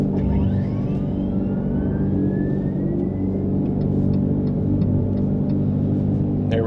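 A 2025 Dodge Charger accelerating hard during a power shot launch, a loud, steady engine roar with rising tones and traffic noise, heard up close from inside the car.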